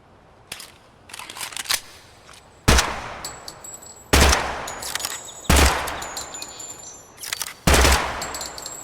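Special Utility ELAC energy weapon firing in a shooter game, a few scattered sharp clicks followed by four heavy booming discharges spaced about a second and a half apart, each with a long ringing tail, loud and close with no talking.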